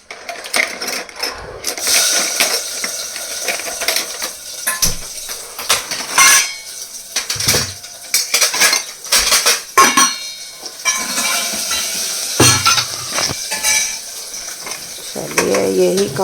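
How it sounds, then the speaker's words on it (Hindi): Washed dishes and cutlery being put away in a home kitchen: irregular clinks, clatters and scrapes of metal utensils and pots, sharp and close, with short pauses between bursts and no speech over them. "सुबह के बर्तन साफ़ किए ये रखे हैं"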